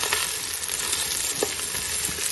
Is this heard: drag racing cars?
no